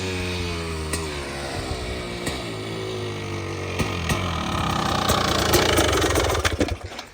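A stalled dirt bike, restarted after many kicks, idles steadily nearby with a constant harmonic drone, then revs up slightly toward the end with a few uneven blips.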